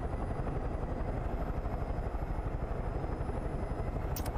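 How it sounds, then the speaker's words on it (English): Helicopter in the video game Far Cry 5, a steady low rotor rumble and engine drone running continuously at moderate level, with a brief higher burst near the end. "Alright, we have a helicopter now."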